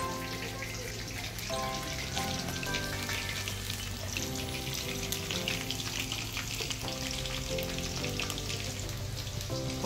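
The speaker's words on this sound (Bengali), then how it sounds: "এখানে পকোড়া হচ্ছে, চিকেন পকোড়া।" Chicken pakoras deep frying in hot oil at an outdoor cooking spot, a dense, steady bubbling sizzle that runs continuously at close range with no voices.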